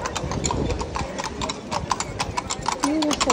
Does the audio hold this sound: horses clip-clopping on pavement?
yes